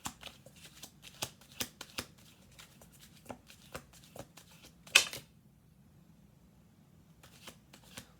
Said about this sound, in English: Maybe we'll do another shuffle just in case